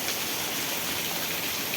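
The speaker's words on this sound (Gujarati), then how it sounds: "તમે જોઈ શકો છો અતિ ભારે વરસાદ પડી રહ્યો છે" Very heavy rain pours at night in Vejalka village, Ranpur, Botad district, a dense, even hiss of downpour beating on surfaces without pause.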